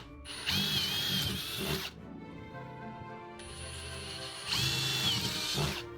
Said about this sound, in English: Next, he's drilling some holes so that he can fit his jigsaw in and cut out the shape that he's traced.